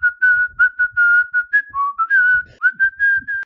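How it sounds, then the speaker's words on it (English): A clear, loud AI-generated whistled rendition of Jingle Bells, with short repeated notes in a bouncy rhythm, played alone without any talking. "Here's it whistling jingle bells."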